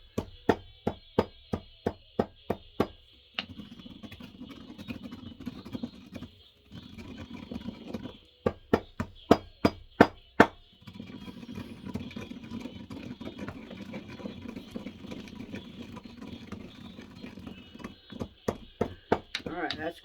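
Magnetism powder ground by hand, heard as a series of sharp, evenly spaced pounding knocks that come in bursts, with quieter scraping between the bursts and a steady low background hum.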